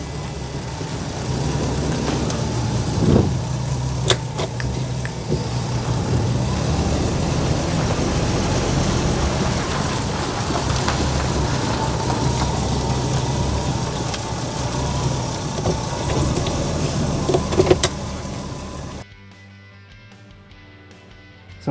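A Holden VK Berlina barn find with dragging brakes drives along, a low steady engine rumble with road noise heard from inside the car that cuts off abruptly near the end.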